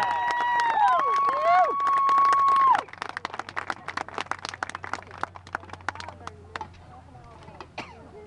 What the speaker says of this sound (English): another round of applause for the Chilhowie High School Fighting